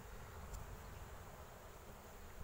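Honeybees buzzing over hive frames during an inspection of young colonies, a continuous, close, even drone with no voices.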